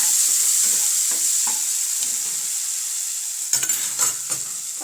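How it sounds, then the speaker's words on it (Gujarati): Masala spice paste sautéing in a pan with curry leaves and chillies, a loud bright steady sizzle throughout, joined by clustered scraping stirs near the end. "આ મસાલા નાખેલી પેસ્ટ છે તે ઉમેરી દઈશું અને તેને સરસ રીતે આપણે સાંતળી લઈશું"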